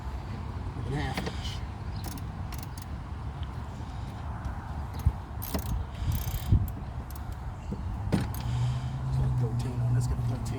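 A ratchet with a 1/2 inch socket works a bolt loose while swapping the alternator on a 1999 Mercury Grand Marquis. Irregular clicks and metallic clanks sound close by over a busy garage background.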